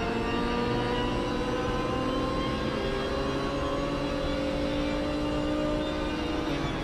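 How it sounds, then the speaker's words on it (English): A Ferrari engine in the racing game Project Cars 3 hums and whines steadily, with gear-like tonal sweeps rising and shifting under a constant wash of road noise, fairly quiet and alone without talk. "Like, come on, this doesn't sound anything like a Ferrari."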